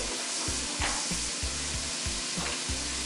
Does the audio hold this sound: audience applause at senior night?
no